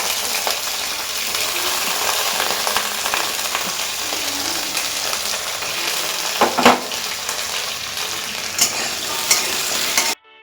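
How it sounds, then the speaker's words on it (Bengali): Radish and beans frying in oil for khichuri, a continuous loud sizzle with a few sharp stirring clatters and utensil knocks near the end, cut off abruptly, no one talking. "মূলো আর বিনসটা দিয়ে দেবো, অল্প করে ভেজে দেবো।"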